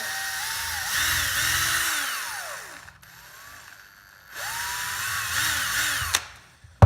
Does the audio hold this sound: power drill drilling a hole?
yes